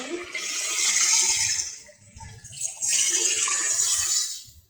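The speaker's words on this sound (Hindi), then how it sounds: "अब हम इसमें शामिल करेंगे 1 गिलास पानी।" Water from a glass poured into a cooking pot of chicken qorma, a broad splashing rush heard in two bursts with a short pause between, close and fairly loud, with no talking.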